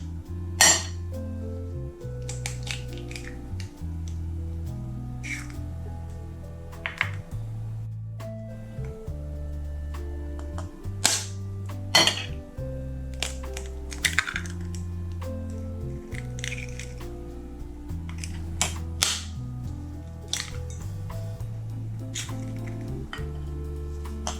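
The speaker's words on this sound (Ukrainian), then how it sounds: "Тепер нам знадобиться 4 яйця і вибиваю їх в мисочку." Four eggs cracked into a small bowl for a broccoli dish, heard as sharp clinks and taps of shell on the bowl rim at uneven intervals, close and crisp over steady background music.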